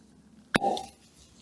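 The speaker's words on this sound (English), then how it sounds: "Fantastic cork pop there." A cork pulled from a bottle of cask strength Macallan Scotch whisky gives one sharp close pop, followed by a short, soft hollow ring as the bottle opens in a quiet room.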